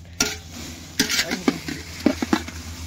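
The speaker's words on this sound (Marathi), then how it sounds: "चुलीवर भाजायचं चालल्यात मिरच्याचा लय ठसका सगळीकडं" Chillies roasting in a pan on a stove for masala, sparse clattering taps and stirring scrapes against the pan with a faint sizzle, a few distinct strikes over a low hum.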